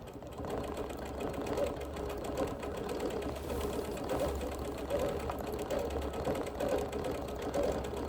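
A sewing machine stitches free-motion loop-meander background quilting around embroidery in a fast, even mechanical patter, with steady needle strokes and a low motor hum at moderate volume.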